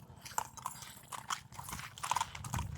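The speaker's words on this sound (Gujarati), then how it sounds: "વાહ ઘોડા, જો એની ચાલ જુઓ તમે।" Marwari horse walking, its hooves giving soft irregular clip-clop knocks at close range, fairly faint, with no voices.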